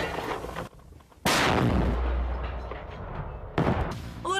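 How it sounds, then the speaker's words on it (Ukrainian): Two loud, sharp gunshots a couple of seconds apart near a Donbas airport held by Ukrainian troops, each cracking out and echoing away into the distance. "Звідти стріляють по українських військових, які контролюють аеропорт."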